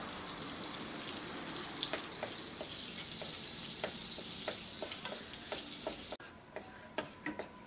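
Butter and a little refined oil heating in a kadai for butter paneer masala, a soft continuous sizzle with scattered crackling pops, dropping off abruptly near the end to a few isolated spits.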